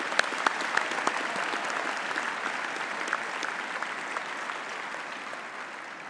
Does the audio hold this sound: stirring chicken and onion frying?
no